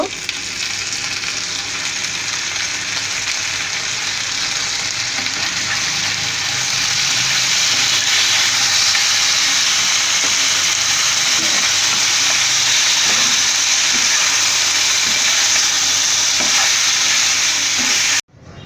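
Chicken boti kebab with a spoonful of tomato sauce, frying and stirred in a pan, makes a loud, continuous sizzle close up that runs for a long stretch without pause and cuts off abruptly at the end.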